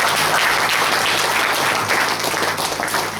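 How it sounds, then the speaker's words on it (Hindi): A temple congregation at a Ram Katha gathering at the Radha Govinda temple in Hamilton claps loudly and steadily. The applause is thick and continuous throughout, with no voices over it. "आप सबको तालियों के साथ सम्मानित कीजिए।"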